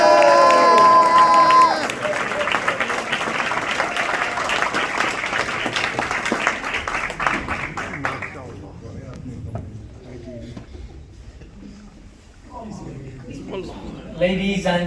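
Loud crowd applause and cheering at a political rally in a Pakistani community centre in Bradford West, filling the hall at first, then thinning to scattered claps and murmuring voices.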